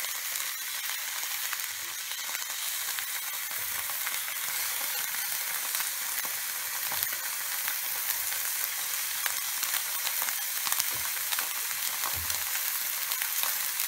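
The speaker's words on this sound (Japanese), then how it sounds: "今ここでしっかりとお肉が焼けております。" Steady, dense sizzling of steak searing on a thick iron plate, continuous crackle with occasional louder pops, close up and uninterrupted by speech.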